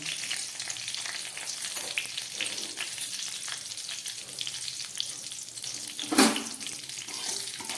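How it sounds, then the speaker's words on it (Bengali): Panch phoron, a bay leaf and two green chillies fry in oil over low gas for pumpkin chhokka, giving a steady close sizzle with light stirring throughout and one brief louder scrape near the end. "পাঁচ ফোড়নটা একটু ভাজা হোক"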